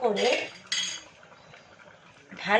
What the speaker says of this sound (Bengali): ধনেপাতা দেওয়ার পর ভালো করে নেড়ে নেব।